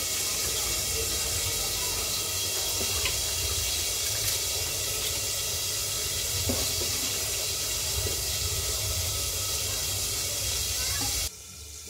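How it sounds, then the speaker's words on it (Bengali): Rice water at a rolling boil in a pot on a gas stove gives a steady, dense hiss and bubbling that holds evenly for about eleven seconds, then drops off abruptly near the end. "এদিকে দেখুন, ভাতের জলটা ফুটে গেছে টকবক করে"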